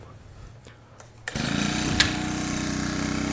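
Petrol two-stroke brush cutter engine, Japanese-made, pulled to start: a few faint rattles, then it catches abruptly and settles into a loud, steady buzzing idle, close by.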